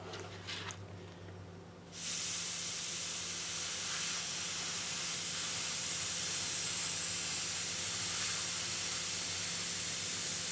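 A short mechanical buzz gives way to a steady, loud hiss of an Avanti airbrush spraying paint, stuttering though the trigger finger stays still, continuing without a break.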